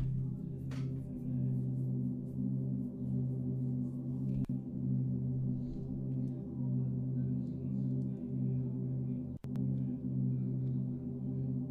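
A sustained string pad synth preset in FL Studio with its filter cutoff turned down, giving a dark, muffled tone that holds steady and loud throughout, with a faint pulsing swell and no voices.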